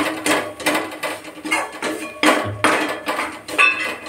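Tomatoes go into a pan of roasting spices for tomato soup, a run of close metallic clanks and scrapes from the pan and utensil in uneven bursts with short pauses between.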